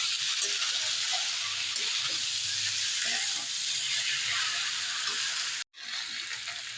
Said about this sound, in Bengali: মাশরুম, চিংড়ি, আলু কষিয়ে নিয়েছি বন্ধুরা ভালো করে।